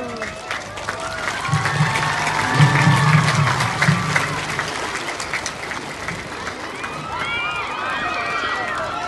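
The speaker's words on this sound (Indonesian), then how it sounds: "Tepuk tangan." Crowd of students clapping at a school flag pole, sustained applause mixed with voices and shouting, moderately loud throughout.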